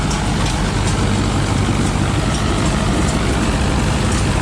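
A Mahindra Arjuna Novo 605 Di harvester engine runs in a field on slightly damp ground, a loud, steady, close drone with a heavy low rumble and broad noise, continuous with no pauses.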